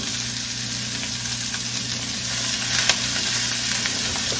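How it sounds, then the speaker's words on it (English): Cabbage cooking down in a pot alongside braised beef shanks gives a steady, close frying sizzle with light stirring noise, consistent throughout, no voices. "we're going to add in the rest of our cabbage as much as we can get in here. Probably have to let it cook down to get it all in here."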